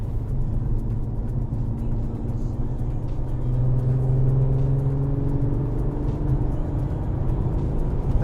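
A Volkswagen CC VR6 with 300 horsepower and all-wheel drive hums along steadily from inside the cabin, its engine drone rising gently in pitch as it accelerates smoothly, with road noise underneath and no talk.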